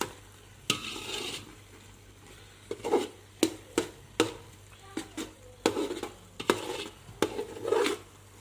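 Carrot halwa, a thick milk-and-carrot mixture, being stirred in a pan: repeated close scraping strokes at an irregular rhythm over a faint low sizzle, with no talking.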